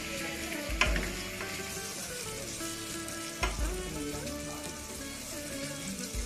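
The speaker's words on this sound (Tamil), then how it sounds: "இதுக்கு கூட வந்து 3 பச்சை மிளகாய் சேர்த்துக்கோங்க. கொஞ்சம் வதங்கட்டு." Three green chillies sauté in a pan for chicken curry, a soft steady sizzle with two sharper stirs or clinks, and nobody speaking.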